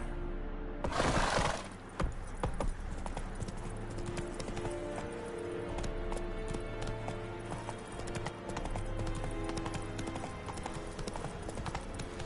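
Hooves of the horse Roach galloping in The Witcher 3, a fast, steady clip-clop close by, opening with a brief bright crash before the rhythmic hoofbeats carry on underneath a busy game soundscape.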